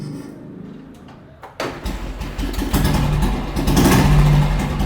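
A restored Royal Enfield G2 motorcycle engine starts up after a few clicks and settles into a loud, close, steady thumping idle that swells slightly toward the end.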